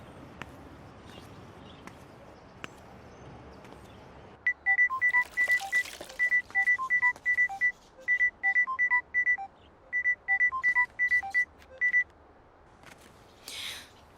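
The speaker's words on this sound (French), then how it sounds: "Ah, ça sonne." A telephone rings with repeated bursts of bright electronic trilling beeps in a steady pattern, fairly loud and close, following quiet room tone.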